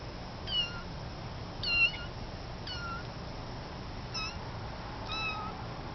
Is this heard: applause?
no